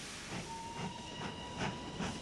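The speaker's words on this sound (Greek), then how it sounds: "Το τρένο που μας πάει σταματά σε πολλούς σταθμούς." A freight train pulling into a station, with a steady hiss of steam or brakes and a faint repeated clatter of wagons at a moderate distance, all without voices.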